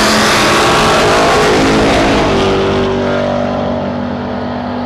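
Ford Falcon and Mustang drag racing cars at Portland International Raceway in 2010 roar loudly off the line, a powerful harmonic engine blare that gradually fades as they pull away down the strip.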